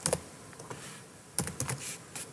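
Keys tapped on a computer keyboard, a few soft clicks at the start and then a quick cluster of keystrokes midway, quiet and close with pauses between bursts.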